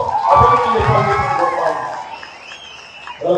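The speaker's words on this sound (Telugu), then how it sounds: "ఈ రోజు పార్లమెంట్ అభ్యర్థిగా ముందుకు పిలిచేసిన ఆత్మ సబ్బు గారికి ఒకసారి గట్టిగా చప్పట్లతో" A crowd at a political party cadre meeting claps and cheers for a parliamentary candidate, the burst loud at first then fading out within a few seconds.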